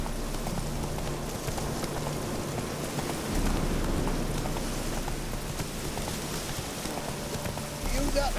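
Hooves of Roach, a horse in The Witcher 3: Hearts of Stone, clop steadily through a rain-soaked game world, with rain pattering on surfaces throughout and brief voices over the mix.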